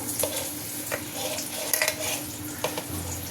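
Rice stir-fried in a pan with egg, prawns and meat gives a close, continuous sizzle broken by sharp clinks and scrapes of a spatula against the pan.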